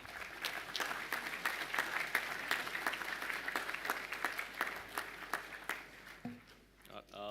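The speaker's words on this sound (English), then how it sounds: "Please give the under 14s a round of applause." A school assembly audience applauds the under 14s runners, a dense, even patter of many hands clapping for several seconds, then tapering off near the end.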